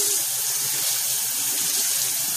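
A tap runs steadily, water gushing into a sink in a continuous, even hiss close by.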